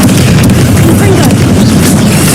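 Fiery Confringo blast spell going off in Hogwarts Legacy, a loud, sustained booming explosion that fills the whole moment up close.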